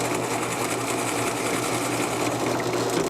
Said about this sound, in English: I'm only going to drill down to the depth of that.